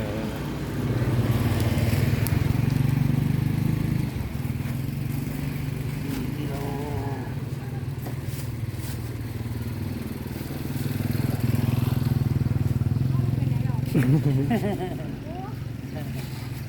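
A motor vehicle, probably a motorcycle, engine droning steadily nearby, swelling louder twice, with people talking over it.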